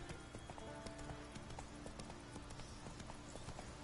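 Galloping horse hooves in a video game, a steady rapid clip-clop running throughout over a dense background of game music and ambience, fairly close and continuous.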